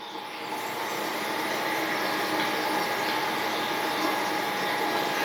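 A vacuum cleaner runs continuously indoors, a steady broadband whoosh and hum that starts after a brief moment and holds at an even, moderate level.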